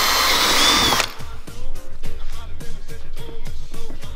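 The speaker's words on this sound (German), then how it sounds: "Warum bohren wir jetzt? damit die Risse nicht weiter aufreißen." A power drill whines at high speed for about a second, then settles into a rapid, rhythmic knocking as it bites into a cracked Mercedes-AMG car bumper.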